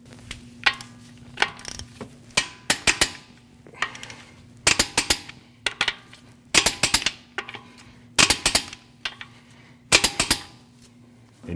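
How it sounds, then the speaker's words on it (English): Torque wrench tightening the wheel lug nuts on a 2014-2023 Jeep Cherokee to 100 foot-pounds in a crisscross pattern, a series of sharp metallic clicks in quick clusters over a steady low hum, close by. "we're going to torque these at 100 foot-pounds in a crisscross manner"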